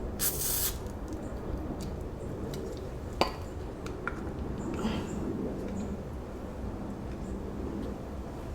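Lubricant sprays in a short hissing burst onto front brake parts of a 1981 Suzuki GS450L motorcycle, then a quiet workshop with a few small metallic clinks.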